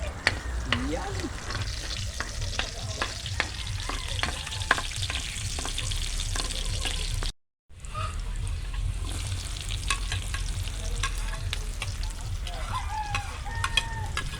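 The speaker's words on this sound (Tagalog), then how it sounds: "magsalang tayo ng kawali para lagyan natin ng mantika, bawang, sibuyas" Garlic and onion sauté in oil in a pan over a wood fire, giving a steady close sizzle with scraping stir strokes; a rooster crows in the background, and the sound briefly drops out midway.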